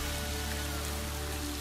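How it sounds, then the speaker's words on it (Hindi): Finely chopped onions frying in hot oil with cumin and chili in a pan, a steady close sizzle like dense rain, unbroken and fairly soft with no voices. "प्याज को थोड़ी देर के लिए भून लेंगे।"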